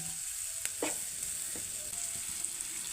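Sliced bitter gourd sizzles steadily in a pan over high heat, a constant hiss with a few soft scrapes and taps of a stirring spoon, close and even, with no voices.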